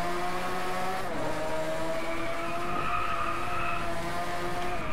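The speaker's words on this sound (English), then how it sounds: "Let's accelerate out." A Lamborghini race car revs and accelerates in the racing game Driveclub, with a loud, sustained engine whine that climbs in pitch and shifts gears, along with a faint tire squeal and no speech.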